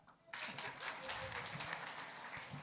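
Audience at a town hall on peace and national cohesion breaking into applause, a dense wash of clapping that starts abruptly and holds steady, heard from a distance in a large room.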